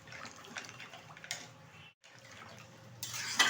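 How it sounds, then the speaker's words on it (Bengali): Goat leg curry with water being poured into a pressure cooker in a home kitchen, a close, steady liquid splashing and trickling that stops briefly midway and resumes with a brighter splash at the end. "আর এটা কিন্তু আমি এখন প্রেশার কুকারে ঢেলে দেব"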